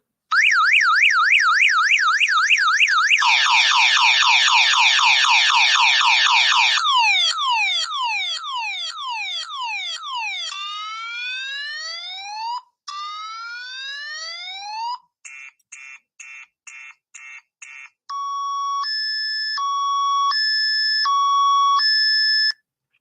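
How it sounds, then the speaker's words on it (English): A sequence of loud electronic alarm sounds plays on a podcast. Sweeping wails give way to fast warbles, rising chirps, stuttering pulses and finally a steady two-tone beeping, all without speech. "I had to play this alarm"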